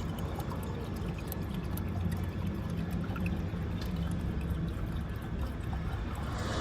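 Water leaks from a truck radiator, pouring and trickling steadily in a continuous splashing stream, fairly close, with no talking.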